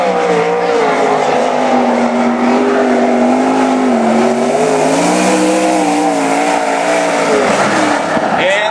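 A Maxim chassis race car, running without its wing, roars past on the track at full throttle, its loud engine note rising and falling close by, with a voice talking over it.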